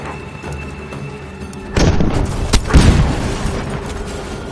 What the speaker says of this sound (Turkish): Bombayı patlattık.